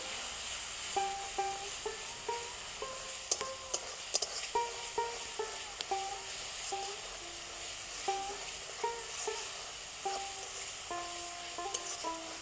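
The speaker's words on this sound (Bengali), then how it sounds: "মশলাটাকে ভালো করে কষিয়ে নিয়েছি মশলা থেকে তেল ছেড়ে দিয়েছে" Masala spice paste frying in oil and being stirred in a pan for a potato dish, a faint soft sizzle with light scraping strokes beneath a melodic background tune.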